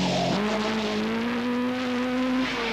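Ex-works Vauxhall Chevette rally car on a Manx Rally stage lined with stone walls and banks, its engine note climbing steadily in a continuous loud, close drone with a brief shift at the start.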